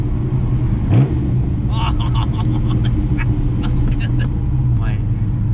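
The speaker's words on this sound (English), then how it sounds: "That noise coming out of these side exit exhausts" A TVR Sagaris engine rumbles through its side exit exhausts, a loud low drone with a quick rev around one second, while someone speaks briefly over it.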